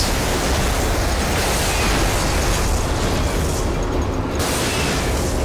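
Rocket explosions in RAGE, a continuous roaring wall of blasts and rumbling booms, loud and close, with one brief dip in the hiss near the end.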